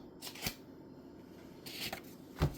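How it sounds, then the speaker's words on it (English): Tarot cards shuffled in a few quick riffling bursts, near and fairly quiet, with brief broadband swishes and a low thump at the end. "Okay, I'm being guided to shuffle one more time."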